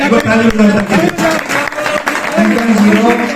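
Seminar audience in Rohtak applauding a scholarship recipient, a dense clatter of many hands running through the whole stretch and mixed with loud voices talking and calling out over it.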